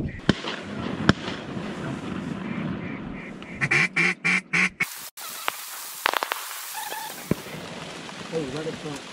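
A duck hunt in open country brings sharp, loud gunshot bursts cutting through, with duck calls and quacking around them and hunters talking in between.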